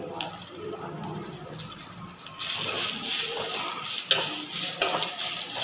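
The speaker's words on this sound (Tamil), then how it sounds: "எண்ணெய் ஊற்றி நல்லா 2-3 நிமிஷம் வரைக்கும் நல்லா வணங்கட்டும்." Cabbage for a chutney cooking in oil in a pan, with a quiet stir at first and then a louder, steady sizzle and hiss punctuated by occasional scraping clicks.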